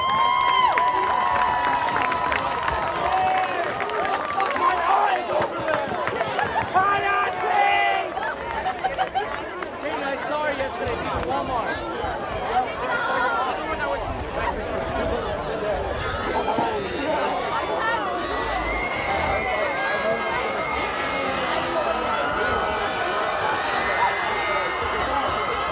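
A crowd at a high school football game between Durfee and Somerset claps, cheers and shouts continuously, with chatter and children's voices mixed into a loud, busy stadium roar.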